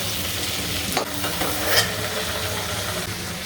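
Chicken pieces for biryani fry in a pan with a steady, close sizzling hiss, broken by a couple of brief scraping stirs near the middle.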